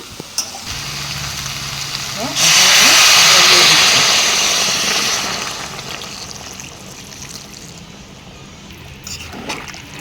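Water poured into a pan of frying jackfruit and chicken sets off a loud burst of sizzling that swells and then slowly fades to a low simmer, with a few stirring clinks.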